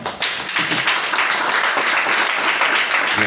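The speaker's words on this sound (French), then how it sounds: "Sous applaudissement de l'église là" A church congregation applauds during a Sunday deacon consecration, sustained dense clapping that rises quickly and holds steady, fairly loud and filling the room.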